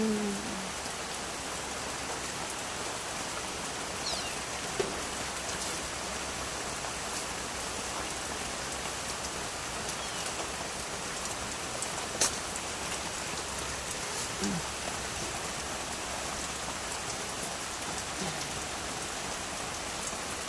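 Steady rain falls and patters on surfaces, an even wash of sound that holds throughout, with only a few faint incidental noises.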